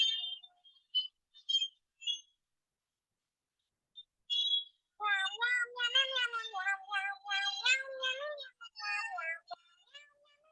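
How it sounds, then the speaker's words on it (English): A cat meows several times, first in short high chirps, then in a longer run of drawn-out, wavering meows, close and clear against silence. "It's a cat."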